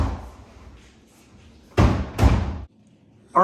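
A plastic Suncast Mega Tall garage storage cabinet top is banged into place: two sharp loud slams close together, then a brief voice at the end.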